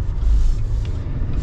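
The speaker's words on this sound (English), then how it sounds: "we're gonna kind of go into this little bump part here" A 2023 GMC Sierra 3500 Denali Ultimate heavy-duty pickup rolls over a stretch of bumps, heard from inside as a steady low rumble with soft, repeated thumps from the suspension, no voices present.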